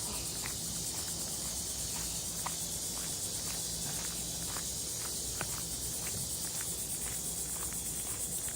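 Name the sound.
cicadas buzzing in the distance at a campground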